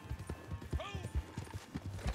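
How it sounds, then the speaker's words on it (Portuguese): Horse hooves clip-clop at a steady trot while riding in a video game, faint and continuous, with a brief whinny partway through. "Tô indo de cavalo aqui"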